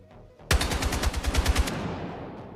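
Rapid burst of automatic gunfire from a weapon in Battlefield 6, about a dozen loud, close shots in quick rhythm that cut off into a fading echo.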